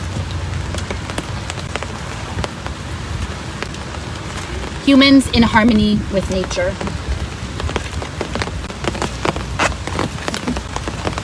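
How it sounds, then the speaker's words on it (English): Rain begins falling outdoors beside a lake, a steady soft patter of drops across the whole stretch, with a person speaking briefly in the middle. "It's starting to rain"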